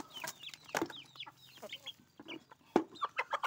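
Chickens cluck and squawk in a busy, overlapping chorus as they scramble for their morning feed, with short sharp calls coming close and in quick succession.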